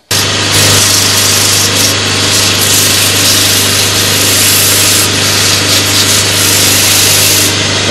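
A wood lathe spins continuously while abrasive sands a turned wooden bowl. The loud, steady rushing hiss sits over a constant low motor hum.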